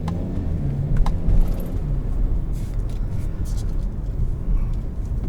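Interior engine and transmission drone of a 2022 Kia Soul Turbo while driving, a steady low rumble of road and motor noise with faint clicks and light rattles on top.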